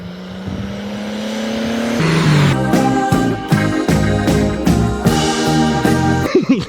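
A 1964 Chevy Biscayne called Bertha, running on 100LL aviation fuel, races a Ford Falcon; a loud, close V8 note climbs, drops sharply through several gear changes and keeps pulling hard.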